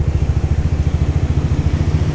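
A motorcycle engine runs at a steady, low, rhythmic chug, sounding close and even throughout with no voices.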